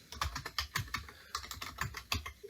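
Code being typed on a computer keyboard: a quick, irregular run of close, crisp key clicks and clacks in short bursts, alone with no speech.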